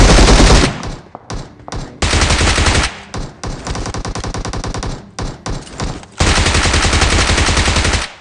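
Loud gunfire from a new gun in the mobile battle royale BGMI, rattling out in dense automatic bursts separated by brief gaps, with a long sustained burst at the end and no voices.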